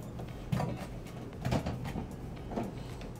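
Several soft sliding thuds and clunks of a Viking side-by-side refrigerator's freezer drawer being pulled open and pushed, repeating about once a second in a quiet motorhome interior.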